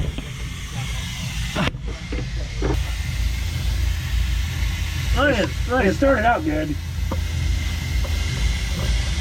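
A constant loud hiss of compressed air blowing during welding of a car differential fills the space, steady and close, while a person talks briefly over it.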